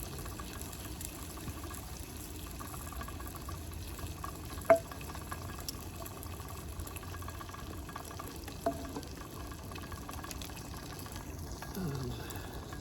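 Bacon fries in a pan on a Jetboil gas stove at a camp, a soft steady sizzle close by with a couple of sharp clinks, no talking.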